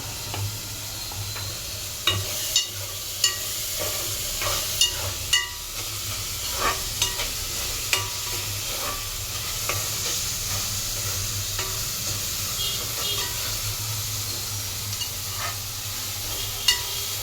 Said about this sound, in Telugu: తర్వాత ఉల్లిపాయలు వేగుతున్నాయి.